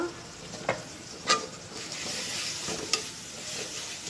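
Water lily stems cook in a pan with turmeric and coriander, a steady close sizzle broken by three sharp stirring clacks of a utensil against the pan.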